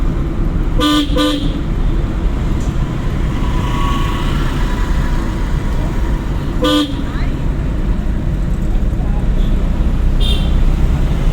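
Car horn honks in busy traffic, a couple of short blasts early and another in the middle, over steady road noise and engine rumble.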